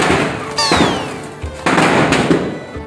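A dense string of Diwali firecrackers crackling and popping continuously, loud and close, with a sharp whistling streak near the start.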